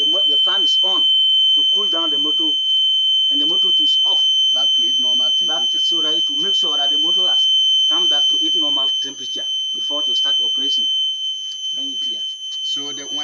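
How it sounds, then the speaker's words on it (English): A motor overheat protection buzzer sounds as two steady high alarm tones running continuously throughout, loud and constant beneath someone talking over it. "the LED is on and the buzzer has given the alarm"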